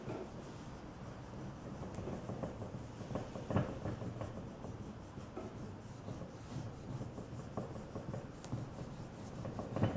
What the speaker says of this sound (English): I'm using the long edge of the eraser.